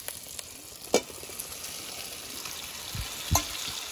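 Spices and meat frying in a pot for biryani, a steady soft sizzle with a few scraping stirs and clanks of a spatula.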